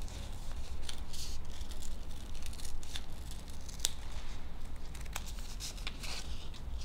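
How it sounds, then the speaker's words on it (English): Scissors snipping through a stack of crepe paper around a pattern, giving quiet, irregular crisp cuts with faint crinkling between them and no talking. "And then just simply cut around the pattern."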